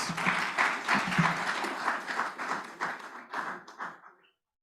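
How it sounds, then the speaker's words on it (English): Another round of audience clapping for Ms. Sally Singh at a residential webinar, uneven and slightly pulsing, thinning out over a few seconds before stopping abruptly. "Can we get another round of applause for Ms. Sally Singh"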